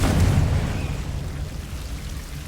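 A Confringo blasting spell goes off in the Hogwarts Legacy video game, a single deep, rumbling explosion that starts loud and decays slowly over a couple of seconds, alone with no talk.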